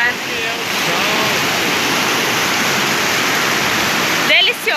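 Water pours steadily at a waterfall at the Salto das Orquídeas campsite, a loud continuous rushing wash that fills the whole clip with no breaks.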